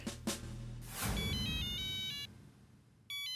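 A phone ringtone chimes in a repeating electronic pattern, cut off briefly before starting again, following a few thumps and rustles.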